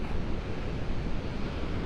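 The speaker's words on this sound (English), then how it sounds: "The waves are really crashing out on the sandbars here." Loud, roaring surf crashing on sandbars at Delnor-Wiggins beach in North Naples, with strong wind buffeting the microphone, a dense continuous rumble of waves breaking without any talking.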